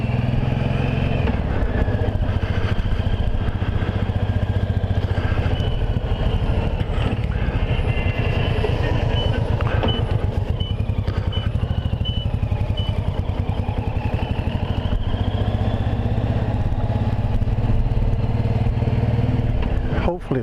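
Suzuki VLR 1800 Intruder motorcycle riding through a tunnel, its big engine a loud, steady, echoing drone that holds throughout, with some wind buffeting.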